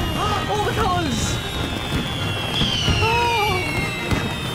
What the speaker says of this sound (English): It's time for double five fireworks!